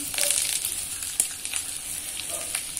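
Whole spices, bay leaf and red chillies sizzling in hot oil for a tempering, a steady bright hiss with small crackles and pops, close and fairly loud, one sharp spit about midway, no talking.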